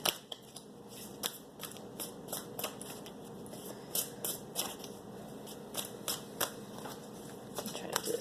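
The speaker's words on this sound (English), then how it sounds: "when I'm shuffling them before I start the video" Tarot cards are shuffled up close, a run of crisp, rapid riffling snaps and soft card slaps repeating in a quick, uneven rhythm at low volume, with no talk.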